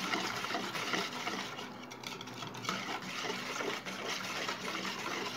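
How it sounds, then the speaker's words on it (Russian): A spoon steadily stirs a marinade of oil and warm water for KFC-style chicken wings in a bowl, producing a continuous close, wet swishing and scraping with no talk. "Все хорошенько перемешиваем."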